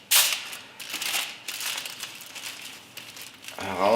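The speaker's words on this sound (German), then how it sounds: "Ihr müsst jetzt den Teig aus dem Papier herausholen." Hot no-knead bread dough is lifted out of crinkling baking paper from a pot, giving loud, close rustles and crackles in bursts, with a short voice near the end.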